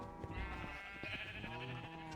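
Repeated wavering bleats from Minecraft sheep in the video game, close and steady, several overlapping calls with light clicks of gameplay underneath.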